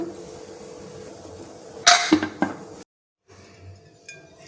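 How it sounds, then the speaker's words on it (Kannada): A pressure cooker's metal whistle weight is set onto the lid with a few sharp, close metallic clinks in a quiet kitchen, followed by a brief silence and a soft rattle. "ಕುಕ್ಕರ್ ವಿಷಲ್ ಕ್ಲೋಸ್ ಮಾಡೋಣ."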